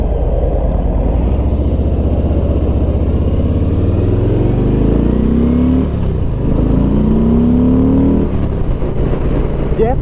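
A Harley-Davidson Street Bob with the Milwaukee-Eight M8 engine revs loudly and continuously while being ridden, with the deep exhaust note rising and falling through gear changes and steady wind rush.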